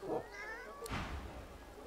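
Video game cat meows once, a short nearby cry with a tonal rising wail, followed by a soft thud and a low background hum.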